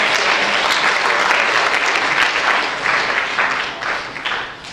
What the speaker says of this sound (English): Give a big round of applause for our 3 advice panelists.